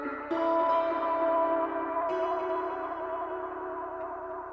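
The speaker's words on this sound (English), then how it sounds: "Let's check out the tape delay on its own." Tape delay on a Mod Duo X pedalboard smears sustained instrument notes into echoing repeats, a struck chord blooming and a second entry layering over a slowly decaying, washy tail.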